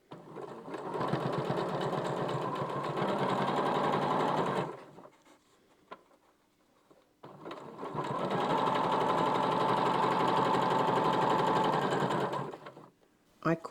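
A sewing machine stitches a quilt-as-you-go cushion cover in two long, even bursts of rapid whirring, separated by a short quiet pause in which the needle stops.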